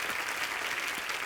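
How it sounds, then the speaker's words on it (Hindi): Studio audience applause on a TV comedy show, steady and dense clapping heard at a moderate distance, running unbroken from start to finish. "आप सबकी जोरदार तालियों के बीच"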